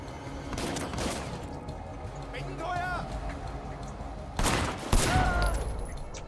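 Gunfire in the video game Sleeping Dogs: loud close shots burst out in a couple of clusters, with game sounds and a voice speaking underneath.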